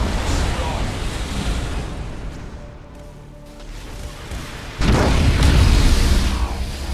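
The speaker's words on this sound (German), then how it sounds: "ist da hinten explodiert" An explosion in the space strategy game Battlefleet Gothic: Armada 2 sounds as a heavy rumbling boom over a dense, roaring battle soundscape. The blast swells sharply near the end and stays loud and sustained.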